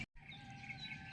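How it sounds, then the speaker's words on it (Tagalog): Small birds sing and chirp with bright, repeated calls under steady background noise, carrying on continuously at moderate distance after a brief dropout at the start. "pakinggan lang muna natin ang mga awit ng mga ibon na sobrang nila masaya"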